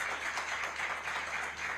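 An audience at a charity givers' gathering breaks into applause, a dense, steady patter of many hands clapping that fills the space for a short stretch with no talk over it.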